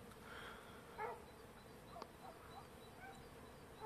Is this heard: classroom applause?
no